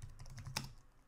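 Quick burst of close keystrokes on a computer keyboard while writing code, a few soft clicks with one sharper tap in a brief, quiet moment.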